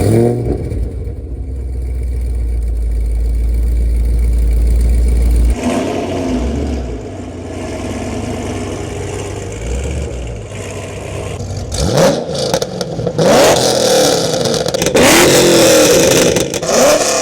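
Two Chevrolet Camaros, a sixth-generation SS and a fifth-generation ZL1, are driven with loud engine rumble, a steady drone giving way to sharp revving and clattering bursts as they accelerate, no talking over it.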